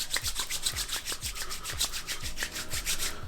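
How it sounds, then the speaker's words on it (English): Hair styling product is rubbed between the palms in a quick, rhythmic series of close, soft swishing strokes, with no voice heard. "you want to just rub it into your hands until it goes clear and dissolves"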